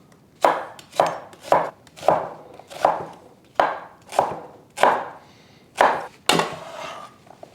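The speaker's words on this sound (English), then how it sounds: "Then I need 1 white or yellow onion, which I'm going to just roughly chop." A white or yellow onion being roughly chopped with a knife on a board, about ten crisp, evenly spaced chops close up, each with a short woody knock and no talking.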